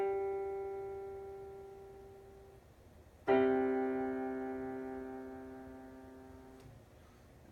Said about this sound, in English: It's a very open sound on the perfect fifth.